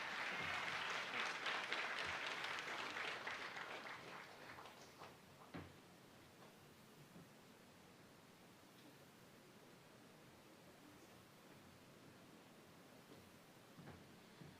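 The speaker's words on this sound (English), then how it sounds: "let's give them another round of applause, please" A crowd at a ceremonial opening of a fishing centre claps for a few seconds, the applause fading out into quiet room noise with a few faint knocks.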